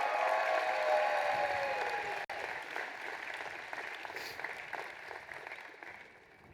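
At a 2024 university commencement ceremony, a large audience applauds the graduates. Steady clapping fills a big space at first, partly under a sustained musical tone, then dwindles gradually and fades out.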